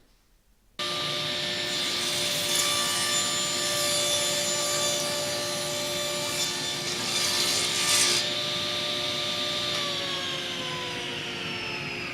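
A saw cuts steadily through plywood, removing a window section from a rustic sliding barn door; a loud, continuous rasping drone starts abruptly after a short silence and runs unbroken to the end, with no talking.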